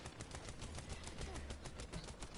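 Rapid automatic gunfire in The First Descendant, a quiet, even stream of shots popping in fast rhythm throughout, somewhat distant and alone.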